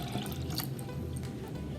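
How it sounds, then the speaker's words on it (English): Two cups of pineapple juice poured into a blender while making a piña colada, a steady close liquid splash and trickle throughout with no talk. "take your 2 cups of pineapple juice and pour it into the blender"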